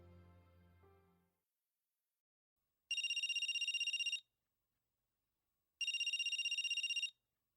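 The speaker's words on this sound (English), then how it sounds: "When the ringtone rang out next to them" Two identical bursts of an electronic telephone ringtone, each a fast trilling warble lasting just over a second with a pause between, clean and isolated after a brief murmur of low background sound.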